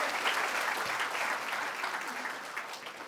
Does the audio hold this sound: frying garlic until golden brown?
no